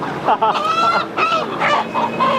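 Live chickens at a market let out a series of loud, close, harsh squawks and honking cackles in short bursts, with brief gaps between the calls.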